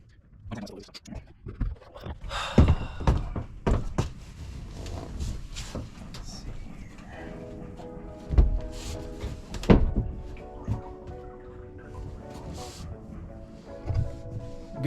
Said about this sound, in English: I'm actually going to lift the tank up, and that way I can get a good look at it.